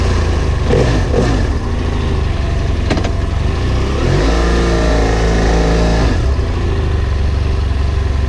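A 2015-2017 BMW F800R parallel-twin motorcycle engine with 360-degree firing order idles loudly and then revs up, its pitch climbing and falling back to a steady rumble, with no voices.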